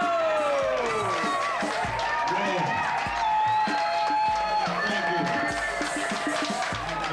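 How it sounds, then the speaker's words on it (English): A club audience claps and cheers as a performer is introduced, continuous crowd applause mixed with music and tonal sounds running underneath for several seconds. "Let's give a round of applause for Mr. Ernie, mother-in-law, Emperor to the world, Kato!"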